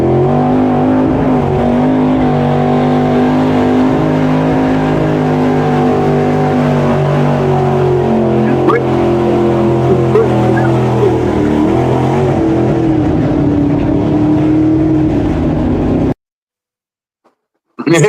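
A pulling truck's engine roars loud and close as it climbs a hill in high gear, its pitch wavering and shifting, before it cuts off abruptly near the end.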